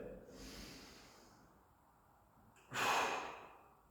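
Forceful breathing from someone doing a 45-degree dumbbell bench press, a soft breath at the start and then a sharp, loud exhale near the end, close by, with no talking.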